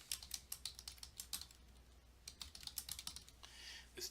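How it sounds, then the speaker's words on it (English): Fingers tap quickly on a computer keyboard while data goes into an Excel 2016 spreadsheet, a close, quiet run of irregular key clicks with a short pause in the middle. "If I start typing in data"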